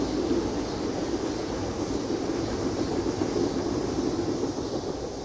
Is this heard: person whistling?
no